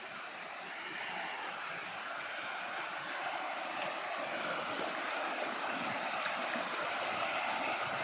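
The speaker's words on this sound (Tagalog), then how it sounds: "Oh, mini falls." A small waterfall near a rice paddy rushes in a continuous, broad, even roar, close and steady throughout with no voices.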